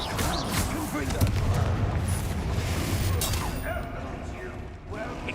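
A Confringo fire spell from Hogwarts Legacy explodes in a dense, booming blast, with rumbling, crackling layers and mechanical clatter filling several seconds at close range.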